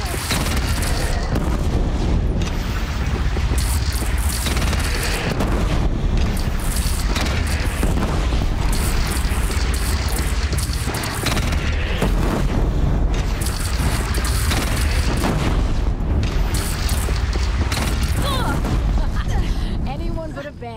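Oseram cannon firing in Horizon Zero Dawn amid a battle: loud, continuous booms and blasts layered over each other for the whole stretch, with crackling impacts and shouting voices mixed into the dense combat din.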